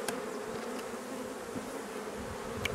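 A male honeybee (drone) on the end of a screwdriver at a hive gives a steady, close, low buzz, with faint clicks and rustles around it.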